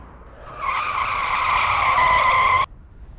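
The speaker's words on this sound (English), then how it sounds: "if you hear the screech of brakes and me dive out of the way" A 2015 BMW 5 Series 535d diesel saloon brakes hard in an emergency stop, its tyres letting out one loud, sustained screech for about two seconds before cutting off abruptly, with no talk over it.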